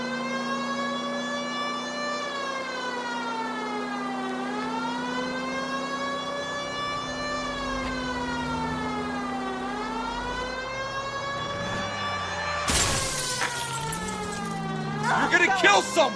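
A police car siren in the L.A. Noire video game wails continuously, rising and falling in slow sweeps, loud and up close, with a car engine and a sudden crash-like burst near the end.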